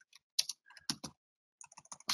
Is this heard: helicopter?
no